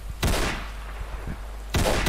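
Gunfire in the WWII-themed Roblox game War Simulator: two loud bursts of shots, one at the start and another near the end, with a quieter shot or two between them and no talking.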